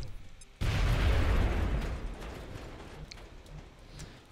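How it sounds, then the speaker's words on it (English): A grenade from a mech detonates in the turn-based strategy game XCOM Enemy Within, a sudden loud blast with a heavy low rumble that decays over a few seconds, followed by faint scattered clicks and debris. "this mech is going to grenade him"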